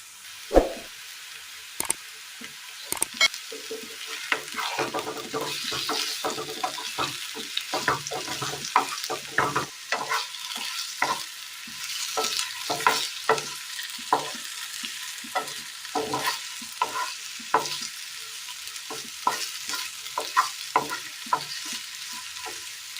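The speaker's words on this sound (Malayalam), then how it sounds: "ഇനി ഇതൊന്ന് റോസ്റ്റ് ചെയ്തെടുക്കണം" Potatoes laid out and roasting in a hot pan give a continuous sizzle broken by scattered sharp pops and crackles, with occasional scraping of a utensil, close and fairly even throughout.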